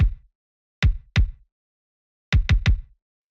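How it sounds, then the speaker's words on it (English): Punchy drum-machine kick for a synthwave beat, heard alone as six deep, short thumps: a single hit, a pair, then a quick triple burst, each with a tight low decay and dry silence between. "like drum machine style kick"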